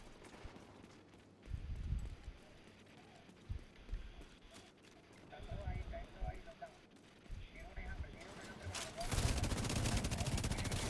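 Gunfire crackles in the shooter video game The Division 2 during a clan fight, with bursts of shots scattered through the clip and a heavy, sustained volley near the end, all fairly faint.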